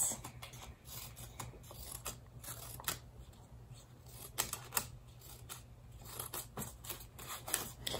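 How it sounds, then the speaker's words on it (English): Scissors snip a series of short fringe slits into a small piece of paper, with soft, quick cuts repeating irregularly at close range over a low steady background hum. "just get a small piece of paper and just cut some fringe, little slits like this"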